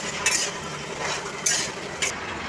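Green banana, potato and vegetable stems fry in oil, a soft continuous sizzle broken by three sharp scrapes of a spatula stirring against the pan, with no talking.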